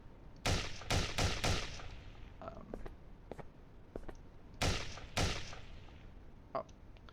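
Video game gunfire in a combat system, several sharp bursts of shots in quick clusters with quieter clicks and impacts between them, moderately loud against a faint background.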